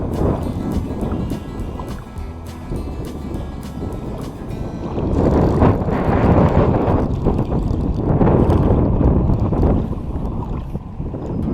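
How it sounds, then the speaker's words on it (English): Wind blows steadily across a lake during a fishing trip, a loud continuous rush with gusts swelling in the second half, and faint knocks and rattles underneath. "Sorry if you can't hear me from the wind"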